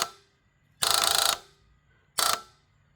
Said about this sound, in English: there's almost sounds like a fuel pump or something up here